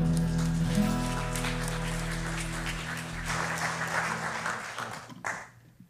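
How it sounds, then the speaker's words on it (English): A church congregation gives a clap offering as sustained worship music fades out beneath the clapping, which swells briefly and then trails off to near silence. "Let's give up a clap offering to the Lord."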